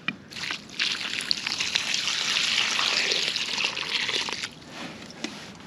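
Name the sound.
water poured into planting hole for bur oak tree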